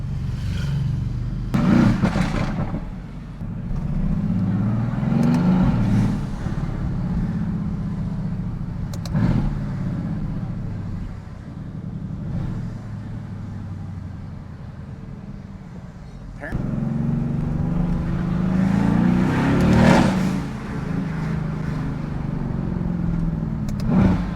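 Mercedes-AMG GT S V8 cruising through downtown San Diego streets, its engine rumbling steadily with a couple of louder revving swells, while someone talks over it much of the time.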